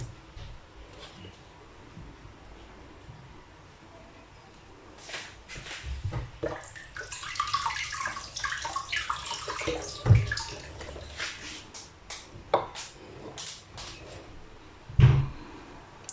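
Tap water pours into a cooking pot holding washed eggs and garlic, a rushing splash that swells in the middle, with a few clunks of handling and the pot being set down near the end.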